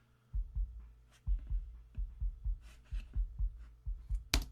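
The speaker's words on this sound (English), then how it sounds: "And then the sub kick, which is essentially focused around like 48 hertz." A sub kick drum sample centred near 48 hertz gives deep, soft low thumps in a steady repeating groove, quiet and rounded with little top end, followed by a brief higher hit at the end.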